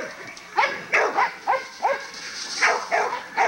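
A pit bull chained in a dog yard barks in a steady series of about seven loud, close, rhythmic barks over steady background noise.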